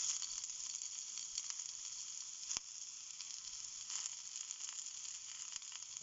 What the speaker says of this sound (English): Once oil is heat, we will add our onion and ginger.